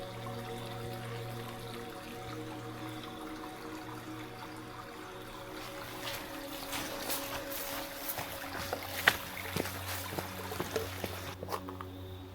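A mountain stream flows in a faint, continuous wash on the forest trail through Sandagalathenna toward Sri Pada in the off-season. Scattered light clicks and knocks rise over the steady water toward the end.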